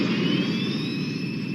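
A mecha's engine held at high rotation in an anime, a loud continuous jet-like roar with a steady high whine on top, sustained evenly throughout with no talk.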